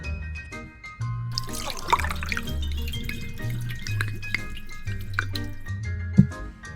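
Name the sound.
pouring cheap whiskey into a Crown Royal bottle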